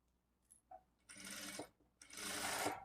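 A sewing machine stitching a lined blouse, running in two short faint bursts of rapid whirring with small clicks in between, close and quiet.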